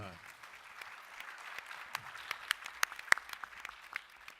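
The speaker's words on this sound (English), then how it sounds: "Give everyone a round of applause, please." A crowd at a voters' education and candidates forum gives a round of applause, diffuse and quiet at first, then sharper individual claps stand out as it continues, with a little background chatter.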